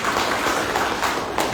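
An audience at an SMK school visit event breaks into brief, dense, even clapping close by, filling the short moment without any voices.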